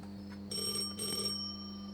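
A faint electronic phone ring in the Roblox game Tol Anomalies sounds in two short bursts over a steady background hum, quiet and distant.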